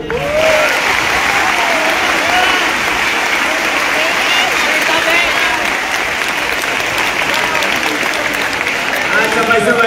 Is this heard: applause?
yes